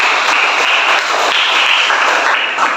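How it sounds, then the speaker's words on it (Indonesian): Students in a classroom applauding a group presentation, a brief burst of dense, close clapping lasting a few seconds. "Tepuk tangan untuk kelompok 1."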